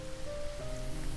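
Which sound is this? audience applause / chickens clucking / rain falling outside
rain falling outside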